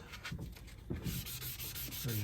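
Steady rhythmic rubbing and scraping of wet sandpaper on a car headlight, close and moderately loud, with repeated back-and-forth strokes.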